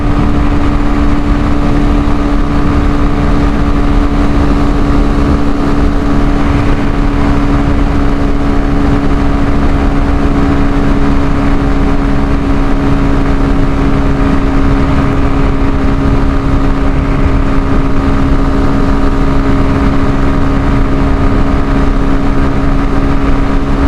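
A small two-stroke Beker Cross moped engine runs continuously at a steady, loud, buzzing pitch, close up and unbroken.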